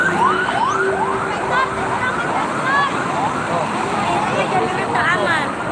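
A loud wailing ambulance siren rising and falling repeatedly nearby on the Jakarta–Cikampek toll road, with crowd chatter and street noise underneath.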